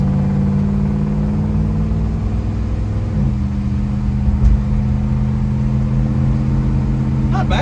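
A 1967 Ford Ranch Wagon being driven hard, its engine droning steadily and loudly up close with a gear-like shift partway through, over constant road and cabin rumble.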